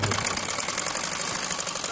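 A sewing machine runs continuously while stitching the top strip onto a poncha, a steady close mechanical whir with a fast rattling rhythm throughout.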